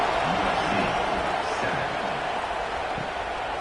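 Stadium crowd roar in a college football video game, Pittsburgh at USC, a steady, dense wash of cheering voices with no breaks, heard at a distance with faint commentary-like murmur mixed in.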